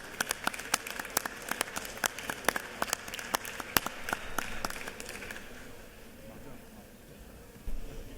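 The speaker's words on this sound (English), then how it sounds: "Please join in a round of applause." Members and guests in a state House legislative chamber give a round of applause, with crisp scattered claps at moderate distance that thin out and fade away after several seconds.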